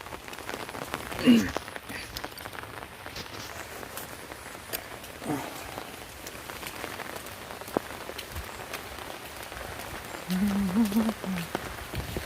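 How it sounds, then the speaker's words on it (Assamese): Steady rain falls outdoors during a fishing outing, a dense, continuous patter across the whole stretch with a few brief louder bumps and a murmur of sound near the end. "পূৰা বৰষুণ দি আছে দেখোন"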